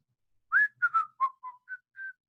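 A person whistles a short melodic phrase of about seven clear notes, slurred and rising and falling, close and alone against silence.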